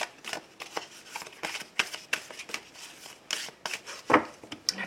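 Tarot cards are shuffled and cut by hand in a quick series of soft riffling and slapping bursts, close and moderately loud, with no voice over them.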